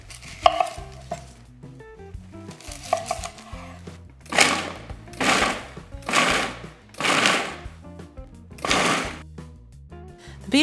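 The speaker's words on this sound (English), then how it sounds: "Gonna use the same food processor to dice the onion." A food processor dices onion in a series of short, loud pulsed whirs, about five bursts in steady rhythm, after lighter clattering at the start.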